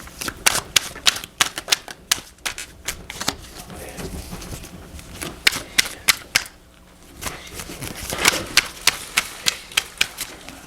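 Tarot cards slapped down and shuffled on a table in a series of sharp, close taps and flicks, arriving in quick bursts with a brief pause midway.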